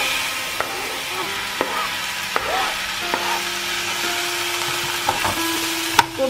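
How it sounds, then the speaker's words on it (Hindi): Chopped tomato is stirred into vermicelli upma frying in a pan, giving a steady sizzle broken by repeated scraping and knocking of the spoon against the pan. "अब हम इसमें ये टमाटर जो हमने काट लिए थे, 1 टमाटर लिया है, इसको हम मिक्स करेंगे।"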